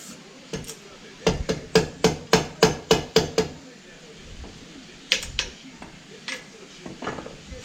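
Hammer knocking out steering column bearings on a T/A 600, a rapid run of about ten sharp metallic blows followed by a few scattered knocks, close and loud, with a man's brief exclamations between them.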